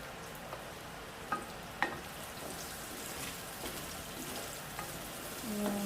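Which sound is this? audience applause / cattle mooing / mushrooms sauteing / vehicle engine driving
mushrooms sauteing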